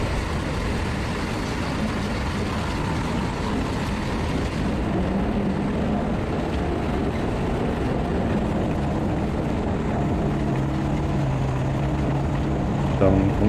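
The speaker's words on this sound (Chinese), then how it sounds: "我在履带的中间还安装了一台收雪机，只要启动它，它就会把地面上的雪自动收集到前面的滚筒里。" A homemade tracked snowball-fighting robot runs its snow-collecting machine, which gathers snow from the ground into a front drum, producing a steady broadband motor rumble and drone throughout, with a faint hum near the end.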